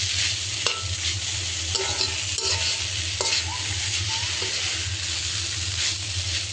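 Cocola noodles with egg frying in a pan, with a continuous sizzle and a few scraping and clinking strokes of a utensil stirring against the pan.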